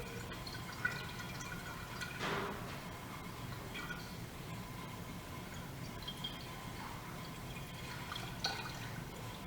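A long stir stick slowly mixes liquid in a DNA extraction setup, giving soft, faint watery swishes and drips with one brief louder splash partway through, and no talking.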